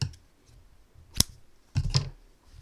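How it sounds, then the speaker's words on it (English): Scissors snipping through yarn while finishing a crocheted sock, a sharp single click followed by a second double snip, close and quiet with nothing else around. "cut my yarn"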